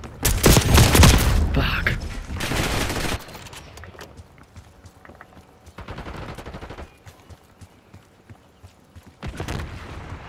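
Call of Duty Black Ops 6 gunfire, opening with loud sustained automatic bursts, then quieter scattered shots and another burst later, while someone talks in between.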